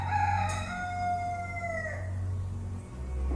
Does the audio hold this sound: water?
no